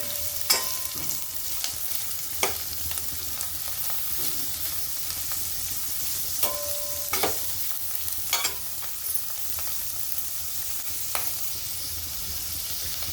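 Chopped onions sautéing in a pan, a steady soft sizzle broken by scrapes and clinks of a spoon stirring at intervals, close and alone without talk.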